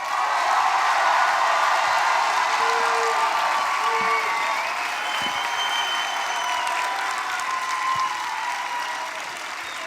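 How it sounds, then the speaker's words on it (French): Loud, sustained applause from a large crowd at a motivational MLM leadership event, thick continuous clapping with a few scattered shouts that holds for the full stretch and eases slightly toward the end. "Je veux que vous vous applaudissiez et que vous criez bien fort."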